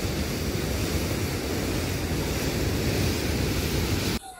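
Floodwater pumped from Kondaveeti Vagu into the Krishna river, a continuous loud rushing and churning of water that holds steady before cutting off abruptly near the end, with no talk over it.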